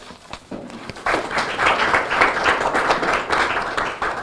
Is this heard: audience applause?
yes